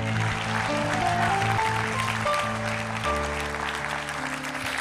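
Loud, sustained applause from a church conference congregation, with strong musical tones running underneath throughout and a shift in the backing partway through.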